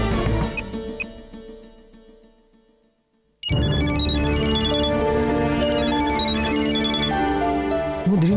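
A telephone ringtone bursts in loud and steady after a quiet moment, its bright repeating melodic tones sounding continuously to the end of the scene in a Tamil TV serial.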